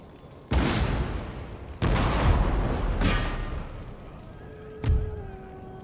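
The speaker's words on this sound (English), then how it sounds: "Probably want to shoot their general with the cannons on the walls" Wall-mounted cannons fire in the Empire: Total War strategy game, with three heavy booming shots spaced about a second apart followed by a fainter fourth blast, each one trailing a long rumbling decay.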